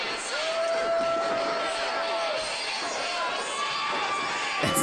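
A wrestling crowd reacts in an arena after a match result, a sustained wash of booing and hubbub from many voices, with a faint whistle-like tone early on.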